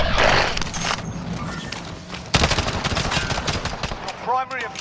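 Rapid bursts of gunfire from a military video game rattle loudly over several seconds, with a sharp burst in the middle, mixed with shouted game voices and other battle noise.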